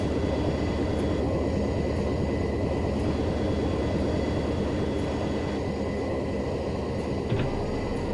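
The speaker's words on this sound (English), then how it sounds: "Anyway, this is a pretty cool plane to fly." A turboprop plane engine in a mobile flight simulator game drones steadily and loudly throughout, a constant whirring hum with faint tonal whine and no talking.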